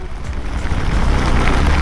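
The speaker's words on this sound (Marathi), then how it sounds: "खतरनाक पाऊस आहे, खतरनाक" Heavy monsoon rain on a motorbike ride from Mumbai to Pali, a loud, continuous roar of rain and wind rushing over the microphone, swelling slightly and staying steady throughout.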